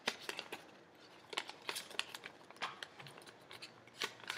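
Paper being creased and folded into a small origami square, giving crisp crackles and soft rustles in uneven bursts, fairly close and quiet, with no talking.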